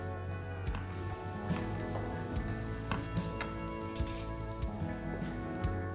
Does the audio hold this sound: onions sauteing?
yes